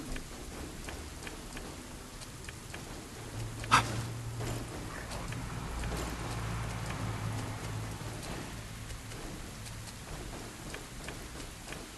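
Steady video-game rain hisses throughout with a low rumbling bed beneath, and a single sharp crack stands out near the start; from the game LifeAfter.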